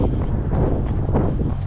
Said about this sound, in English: It's windy, so I don't know how much you can hear